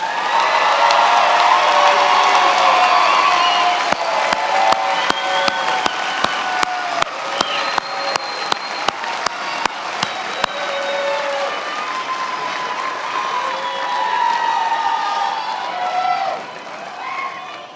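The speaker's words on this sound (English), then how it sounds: "Let's give our graduates one more round of applause." A large crowd at a University of Houston-Victoria spring graduation ceremony applauds the graduates in a long, dense wave of clapping with some cheers and whoops, steady and loud before tapering near the end.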